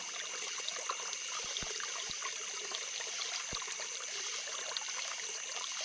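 Creek water flows continuously with a soft, even hiss and trickle, fairly quiet and close, punctuated by a few brief low knocks.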